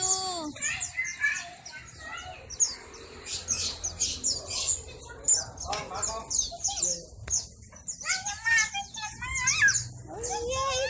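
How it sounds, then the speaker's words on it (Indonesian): Zebra doves and other small birds in a bird shop, a dense mix of chirps, tweets and trilling calls close by, with children's voices and chatter running underneath throughout. "Tuh namanya burung perkutut tuh."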